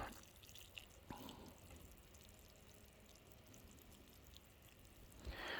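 Water poured from a container into a freshly dug garden planting hole for a tomato transplant, a soft steady splashing and trickle close by, running continuously with a brief louder splash near the end, no talk.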